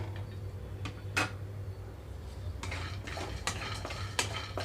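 Dry scraping and clinking of a spatula stirring coconut powder roasting in a pan, with a few sharper metallic clicks over a low steady hum.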